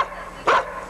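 A single sharp dog bark rings out nearby in a snowy Duluth, Minnesota neighborhood after the 1991 Halloween snowstorm, short and alone over faint background noise.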